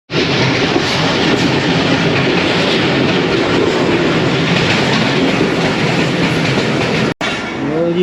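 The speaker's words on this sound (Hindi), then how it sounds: "वजीराबाद से चल पड़ी है रेल।" A train pulls out of Wazirabad on the Lahore to Jhelum line, a loud, continuous roar of rolling wheels and rhythmic clickety-clack heard from on board, steady throughout with a brief dropout near the end.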